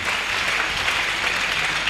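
A church congregation bursts into loud, sustained applause, a dense wash of many hands clapping throughout with no voices standing out.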